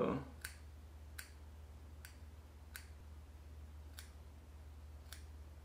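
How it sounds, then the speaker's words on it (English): Crisp, sharp scissor snips trimming hair around the ears repeat at a slow, even pace, six or so close cuts over a low steady hum. "I'm just gonna clean up around the ears a little more. So let me get my scissors"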